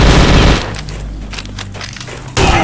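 Rapid automatic Uzi fire in the online shooter game Cross Fire, loud dense bursts at the start and again at the end, with a quieter rattling stretch between.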